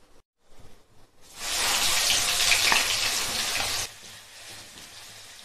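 Ginger garlic paste with bay leaf and spices hits hot oil for a green chicken gravy, bursting into a loud, close sizzle that holds for about three seconds and then drops away abruptly.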